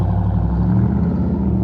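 A Jeep idles after a battery replacement, a steady low engine rumble with a regular pulsing throb, close and fairly loud, with no talk.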